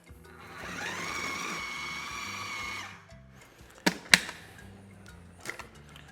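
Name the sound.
food processor blending fire-roasted coconut chutney on high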